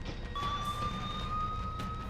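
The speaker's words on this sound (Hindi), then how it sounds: "सुरक्षा बल की गाड़ियां सायरन बजाती हुई मौकाए वारदात की ओर रवाना होने लगी" A security force vehicle's siren wails with a rising, steady tone over rumbling traffic on a highway, moderately distant and continuous without voices.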